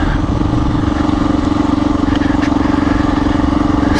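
A Honda XR400R motorcycle engine braking downhill in second or third gear on a dirt road drones steadily at low revs with a rapid, even pulsing throb, close and continuous throughout with no talking.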